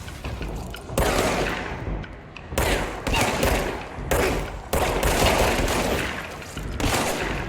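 Rapid bursts of gunfire from a pistol and a shotgun-style pistol in the video game Control, with repeated loud volleys separated by short gaps over several seconds.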